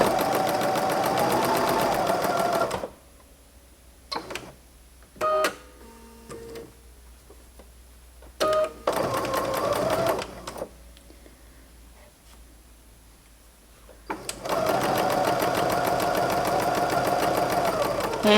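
A sewing machine stitching a book cover, running in two long, steady whirring bursts at the start and end, with a few short stitching spurts and quiet clicks in between.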